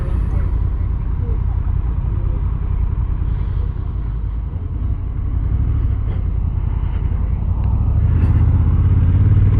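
A Honda NT1100 DCT motorcycle with a dual-clutch transmission rolls along in a steady low engine rumble mixed with wind noise, continuous and fairly loud, swelling slightly toward the end.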